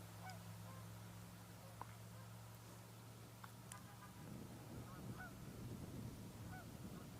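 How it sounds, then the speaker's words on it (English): A few distant Canada geese honk a few times over a steady low drone, the calls faint and scattered through the background. "It's a few Canada geese in the distance."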